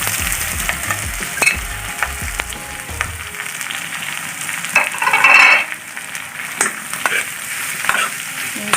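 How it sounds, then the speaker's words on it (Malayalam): Onion and green chili sauté in a pan for chicken curry, with a steady sizzle, scraping spoon strokes and clinks as the mix is stirred, close and continuous, rising to a louder burst of frying halfway through. "നന്നായി ഒന്ന് വാടുന്ന വരെ നമുക്കത് ഇളക്കി കൊടുക്കണം."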